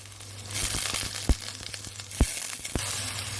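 Carrot and potato pieces sizzle in hot oil in a pan, a soft continuous fry broken by a few sharp crackles and spatters.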